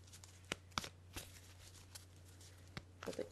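Angel cards are shuffled by hand, giving faint, scattered soft flicks and riffles over a low steady hum in a quiet room.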